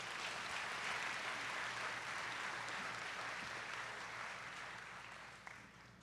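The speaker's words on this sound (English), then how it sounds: "one more round of applause for all of our speakers" Broad, continuous applause from a large crowd at a school commencement ceremony fills the whole stretch, gradually easing off toward the end.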